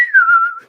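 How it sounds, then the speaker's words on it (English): A single person whistles one sustained note that slides slightly downward before trailing off, loud and close, with no talk. "I did that whistle so wrong, and that probably echoed."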